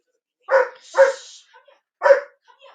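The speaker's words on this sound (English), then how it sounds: "Even my dogs are barking happy birthday to you." Pet dogs give three short, loud barks close by, two in quick succession and a third after a pause, with quiet gaps between them and no talking.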